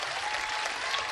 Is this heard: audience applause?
yes